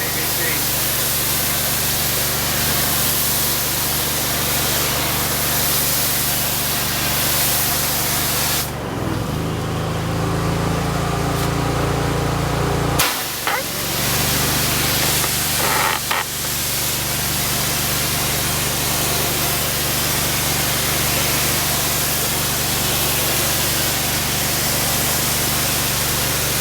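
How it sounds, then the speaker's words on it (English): Spray from a garden hose applying Enviro Bio Cleaner, 8 ounces to 2.5 gallons of water, at low pressure to a brick house exterior, a steady hiss that cuts out for a few seconds midway and then resumes. "to show you what it looks like spraying the EBC"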